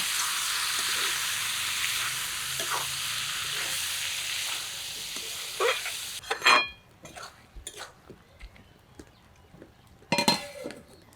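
Mutton pieces stirred into spice masala in a kadai, a steady sizzle that breaks into clinks and scrapes of a spoon against the pan, with a few sharp metallic knocks toward the end.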